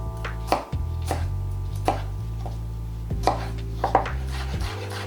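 Knife chopping onion and vegetables on a cutting board, a handful of separate sharp cuts spaced irregularly over a steady background hum.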